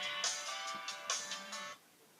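A phone ringtone sounds at moderate volume, a few bright electronic chime pulses in a short melodic pattern before cutting off into quiet, with no talking.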